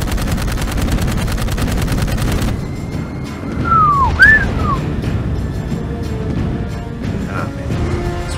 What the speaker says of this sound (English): First time I've had to deal with giant robots shooting lasers at me.